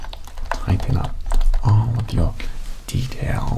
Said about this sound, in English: he was typing up all of your details